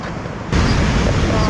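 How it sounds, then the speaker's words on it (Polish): Ocean surf rolls onto a remote, wild Scottish sandy beach on a fast incoming tide, a continuous rushing wash with wind buffeting the microphone that swells louder partway through. "Idę teraz posłuchać oceanu. Co on ma do powiedzenia."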